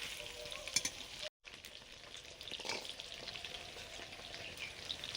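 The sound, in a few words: rice frying in ghee with vegetables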